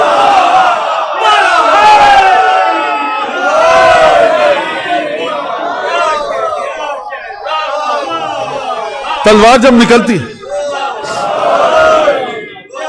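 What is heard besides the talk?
congregation chanting Ya Ali slogans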